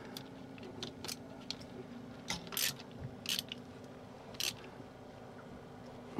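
Ratcheting clicks from a wrench tightening a reassembled fitting aboard a boat, a few sparse bursts of metallic clicking against a steady low hum, close and fairly quiet.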